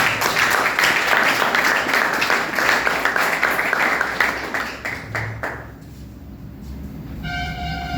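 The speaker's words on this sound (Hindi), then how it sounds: "जबरदस्त वाली तालियां मुझे समझ में आ गई" An audience welcoming newcomers at a gathering with strong, dense clapping that rolls on for several seconds before tapering off, then a faint tonal hum lingers near the end.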